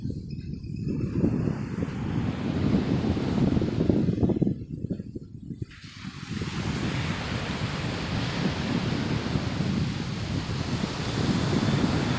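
Waves wash steadily onto an empty beach at Dahanu around midday, a continuous broad roar of surf mixed with wind buffeting the microphone, with no voices present.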